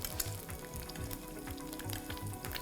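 An egg fries in a hot pan as it is basted with oil, giving a steady close sizzle broken by spattering crackles and rhythmic scraping strokes of the spoon.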